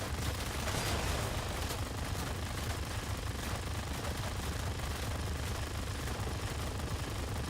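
Machine guns of an FJ-1 Fury fighter firing in World of Warplanes, a dense, steady rattle of rapid shots running continuously at an even loudness throughout, with no break and no voices.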